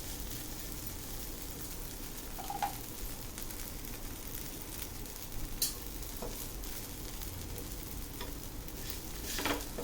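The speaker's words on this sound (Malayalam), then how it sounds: "മറ്റേ ഭാഗം നന്നായിട്ട് മൊരിച്ചെടുക്കണം" Beetroot dosa fries in ghee or oil on a pan, giving a steady soft sizzle with occasional brief crackles and pops, close and fairly quiet, with no talking.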